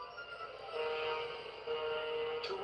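A model train runs on a shelf layout around a room, giving a steady close rumble with sustained tonal hum and a brief squeal near the end, no talk.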